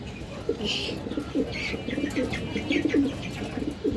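Pigeons coo in low, throaty bursts throughout, with a few brief wing flaps and faint chirps mixed in nearby; among them a large black-necked female pigeon.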